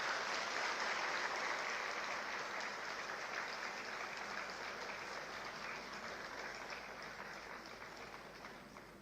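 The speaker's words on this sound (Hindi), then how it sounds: "तालियों से स्वागत करें।" Audience applause welcoming guests onto the stage at a formal event, a continuous dense patter of many hands clapping, fairly distant and evenly sustained, slowly fading toward the end with no talk over it.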